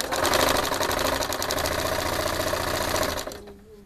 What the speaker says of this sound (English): And we're gonna start stitching around.